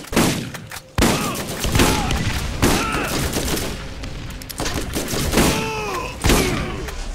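Shotgun blasts in Borderlands at a scrapyard: four or five loud, booming shots at irregular intervals, each followed by a short rumbling tail and layered game effects.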